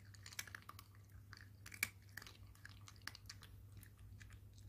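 A cat chews a chicken breast treat, giving soft, close, repeated crunchy bites and wet mastication clicks at a quiet level, with no talking.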